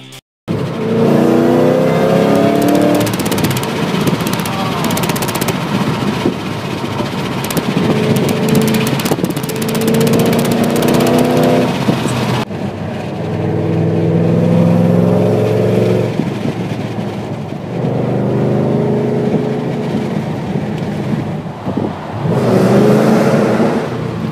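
A supercharged 5.4-liter V8 in a 2008 Ford Mustang Shelby GT500 revs repeatedly, rising and falling in several loud surges with short idle gaps between them, heard close up.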